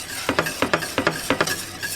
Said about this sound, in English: You whisk.